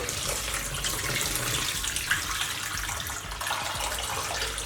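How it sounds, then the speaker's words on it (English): Brine water is poured over fish while Jamaican-style fish and chips is being prepared, producing a steady, splashing gush of liquid that runs continuously at moderate volume. "I'm actually going to throw some of this water on the fish"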